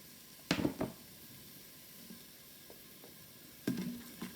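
Chopped garlic and fresh thyme hit hot oil in an Instant Pot, giving two bright bursts of sizzling, one near the start and one near the end, with a quieter, steady frying hiss between them.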